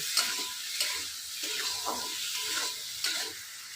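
Rohu fish pieces coated with salt and turmeric sizzle in hot oil in a pan, with a steady frying hiss broken by repeated scraping strokes of a spatula.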